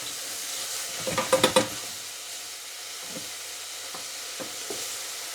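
Mushrooms for a mushroom and pea risotto sizzle softly in a pan while a half wooden spoon stirs them, with a quick burst of scraping strokes early on, then scattered lighter scrapes over a steady low frying hiss. No one speaks.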